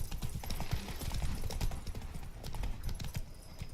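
A horse gallops in The Witcher 3: Blood and Wine, steady rapid hoofbeats clip-clopping close and loud over a continuous ambient bed, with no pause in the stride.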